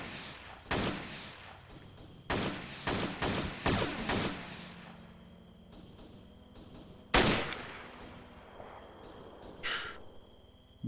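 Gunfire in the military game Arma 3, with sharp single shots and short bursts spread across the clip, some loud and close and others fainter, alone without talk.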